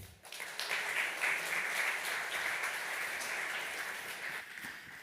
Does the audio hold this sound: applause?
yes